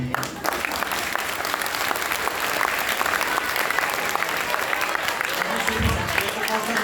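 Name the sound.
audience applause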